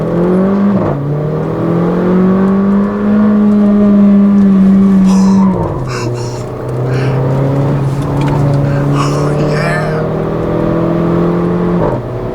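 A 2015 Mercedes-Benz GLA 45 AMG engine pulls hard under full throttle, its loud, close roar rising through the revs, dropping briefly at a gearshift and then climbing again steadily.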